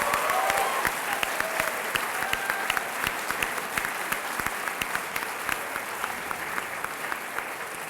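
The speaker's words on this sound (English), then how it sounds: "Let's have a round of applause for our debaters." Audience applause for debaters at a university debate between UGA and Oxford fills the room, a steady, dense patter of many hands clapping throughout with no talk over it.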